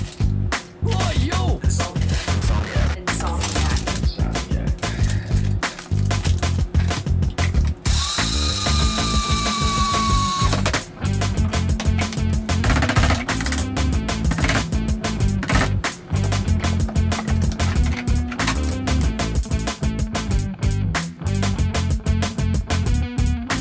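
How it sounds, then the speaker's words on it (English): Coffee beans of a medium roast ground in a grinder, a loud, steady mechanical grinding with rapid ratcheting texture that runs almost without a break, close up and alone. "Let's grind some of this up"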